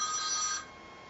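An indoor telephone rings once in a short, faint electronic trill that cuts off after about half a second, leaving quiet room hiss.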